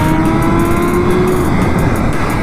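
A 2022 BMW S 1000 RR motorcycle engine running loud and steady while riding, a close, continuous high-revving roar with wind rush and no speech.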